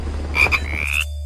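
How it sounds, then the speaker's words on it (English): A single loud frog croak, a rising raspy call lasting under a second, heard alone over a steady low hum in a children's Halloween jungle song. "It's a frog."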